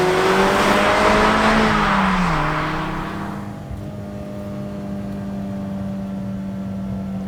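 A 2020 Mazda MX-5 GS engine revs hard from inside the car, climbing in pitch and dropping at a gear change, then easing to a steady, quieter hum at cruise.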